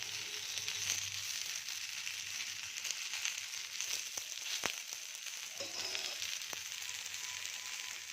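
A dosa made from a mixed-flour batter fries in oil on a pan after being flipped to the second side, giving a steady, close hiss and crackle with faint scraping taps.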